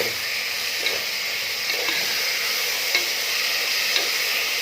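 Large prawns fry in a pan of coconut oil with a steady, loud, close sizzle, broken by a few soft clicks of stirring.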